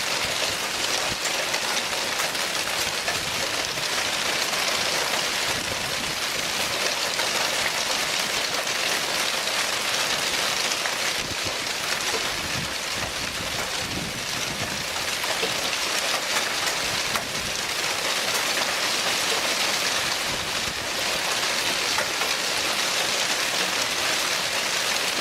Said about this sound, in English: capturing the moment powerful hailstones pounded his property